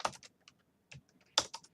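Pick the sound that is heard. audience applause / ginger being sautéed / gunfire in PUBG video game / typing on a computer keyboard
typing on a computer keyboard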